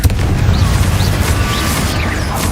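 In the Hogwarts Legacy video game a Confringo spell explodes with a loud, deep booming blast that keeps rumbling throughout, with crashing debris and scattered higher bursts layered over the low roar.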